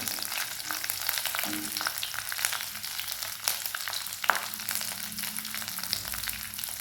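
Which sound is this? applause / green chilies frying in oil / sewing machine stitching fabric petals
green chilies frying in oil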